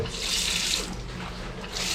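Water runs steadily from a hotel bathroom tap, a close, continuous rushing splash into the basin with a slight swell near the end and no voices.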